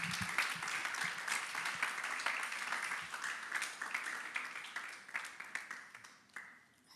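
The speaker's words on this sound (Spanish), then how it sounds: "denle un aplauso al Señor" A church crowd applauds continuously, a dense wash of clapping that holds steady before starting to taper off near the end.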